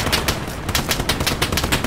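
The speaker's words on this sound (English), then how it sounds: "Oh, I just got shot." Rapid bursts of gunfire in the video game Hell Let Loose: loud, close shots in a fast, uneven rhythm for about two seconds, with no talking.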